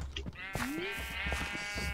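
Sheep bleating in a video game, a single drawn-out bleat near the middle amid busy game noise and other clattering sounds.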